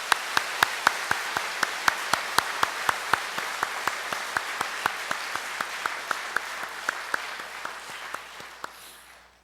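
A church congregation claps in steady, even rhythm for about nine seconds, the sharp hand claps fairly faint and slowly fading toward the end, with no voices over them.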